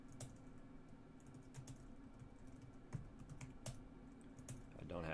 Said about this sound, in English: I'm pressing the arrow keys on my keyboard